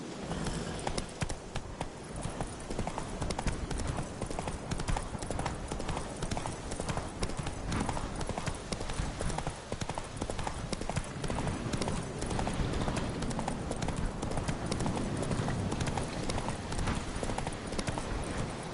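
Horse hooves galloping in The Witcher 3: Wild Hunt, a steady, dense clip-clop rhythm at close range over outdoor ambience, with a faint whinny and some voices under the hoofbeats.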